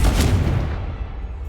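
Confringo blasting spell cast in Hogwarts Legacy, producing a single loud booming blast with a rumbling low tail that fades over about a second and a half.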